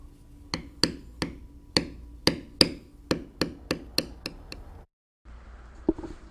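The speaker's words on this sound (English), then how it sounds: "we'll use a small checkered beveler. It's a B936." A checkered beveler, tool B936, tapped with a mallet on leather while texturing a bear's nostrils: about a dozen sharp, evenly spaced knocks in a steady rhythm, close and crisp, followed by a brief pause and one last lighter tap.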